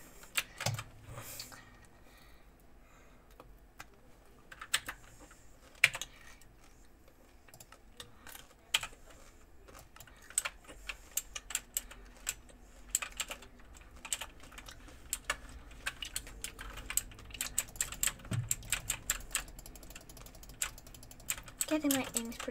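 Rapid computer keyboard typing with frequent key presses and bursts of clicking, close and fairly loud, during Hypixel gameplay; a voice talks intermittently over the keys.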